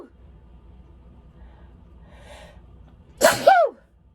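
One sharp, close sneeze from a person during a relaxed coffee chat, preceded by a quick inhaling gasp, then a loud burst with a falling tail, set against near silence.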